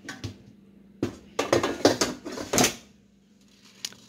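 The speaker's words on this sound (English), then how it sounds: "I'm going to go ahead and throw these in the air fryer" Fries tumbled into an air fryer basket, a string of quick clattering knocks and rattles with a few close sharp impacts, then quiet apart from one last small tap.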